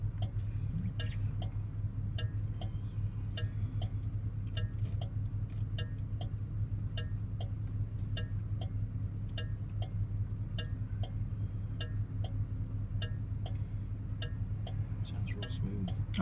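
A 1971 Oldsmobile Cutlass engine runs smoothly with a steady, even low rumble throughout, while a crisp ticking repeats at a regular beat on top.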